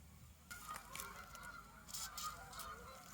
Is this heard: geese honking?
yes